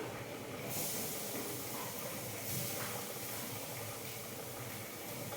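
Grated coconut hits a hot pan and roasts with a loud, steady sizzling hiss that swells suddenly and then holds close and continuous, with no talking.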